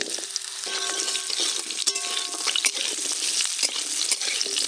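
Cut raw mango hits hot mustard oil with black mustard seed tempering and is stirred, giving a loud continuous sizzle with spatula scrapes and a few brief tonal clinks.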